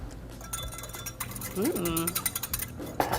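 A small whisk clinks against a bowl while mixing a dressing of soy sauce, lime juice and olive oil, giving light, quick metallic taps and stirring under a person talking.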